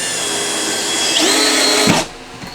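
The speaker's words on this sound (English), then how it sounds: "These 2 bottom screws are driven in at an angle just to provide a little bit extra strength." A power drill drives screws while a French cleat is installed on the back of a finished cabinet, a loud close whine rising in pitch as the motor speeds up, then cutting off abruptly near the end.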